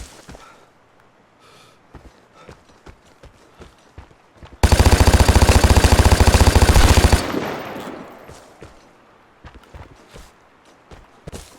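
Maschinengewehr 3 machine gun in the video game Vigor fires one sustained, loud, rapid automatic burst of about two and a half seconds, set between quieter footsteps and movement sounds before and after.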